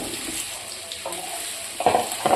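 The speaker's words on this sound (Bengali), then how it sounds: "এবার একটু ভালো করে এটাকে ফ্রাই করতে হবে।" Mango pieces frying in a pan for mango pickle, a steady close sizzle with a few louder stirring scrapes and clinks toward the end.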